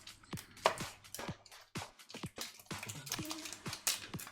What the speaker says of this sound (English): What we're going to do is top and tail the onion itself.